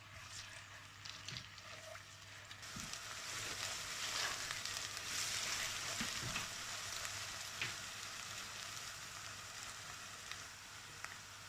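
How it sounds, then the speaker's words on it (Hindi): Onions frying in hot oil in a pan, a steady soft sizzle that carries on alone the whole time with a few faint crackles and stirring knocks. "ऑयल गर्म हो गया। बिस्मिल्लाहिर्रहमानिर्रहीम। इसमें ऑनियन डालते हैं। इसको लाइट ब्राउन इधर ही करेंगे इंशाल्लाह।"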